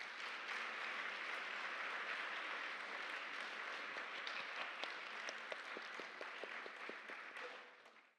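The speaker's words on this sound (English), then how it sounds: "one more round of applause for our euphonious orchestra tonight" An audience at a dance performance applauds the orchestra with a full, sustained wash of clapping that thins into scattered individual claps before fading out.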